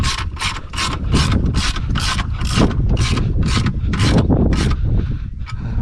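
A hand ratchet clicks in quick regular bursts, about a dozen strokes, close and loud, as 13mm bolts are nipped up on a 2000s Audi TT Mk1 turbo engine; no talking.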